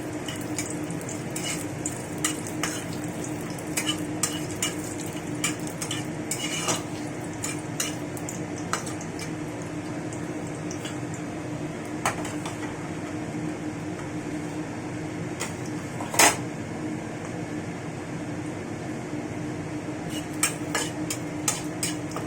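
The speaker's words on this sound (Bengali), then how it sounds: "মশলাটাকে ভালো করে ভেজে নিয়েছি" Bay leaf, dried chilli and garam masala fry in hot oil as a tempering for mixed dal, giving a steady close sizzle with occasional sharp spoon clicks and scrapes.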